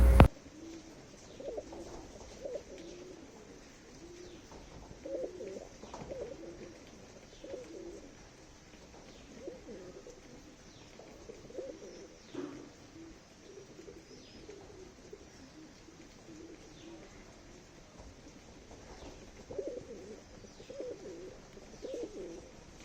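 Highflyer pigeons coo softly in a loft, with repeated low, rolling calls recurring every few seconds alongside faint chirps and quiet background rustling.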